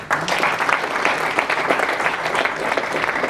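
An audience at the 2025 Radiate Rwanda event applauds in a dense, steady wash of clapping that fills the whole stretch without pause.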